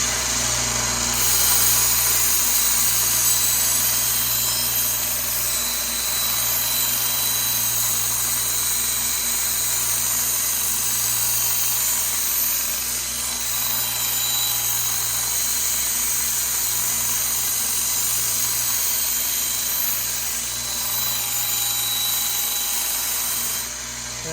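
A 1x30 belt grinder running a Sunmax 400 grit belt while reshaping an R.H. Forschner by Victorinox butcher knife, a continuous close motor whine with a steady hum that stays even throughout.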